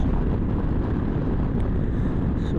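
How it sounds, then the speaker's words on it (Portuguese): Riding a Honda Forza 125 maxi scooter brings a loud, continuous rush of wind buffeting the microphone, a dense low roar with no pauses. "Subi mais um pouco aqui o vidro, porque é o vento, né?"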